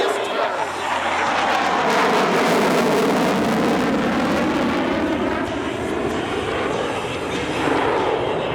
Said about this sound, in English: Watch as the aircraft enters from the left, rolls into a 90-degree bank, and demonstrates the Super Hornet minimus radius turn.